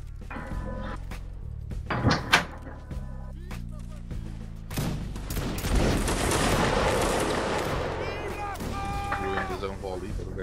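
A ragged musket volley crackles in a Mount & Blade Warband Napoleonic battle, with scattered shots followed by a dense burst of fire, mixed with game music tones and voices talking.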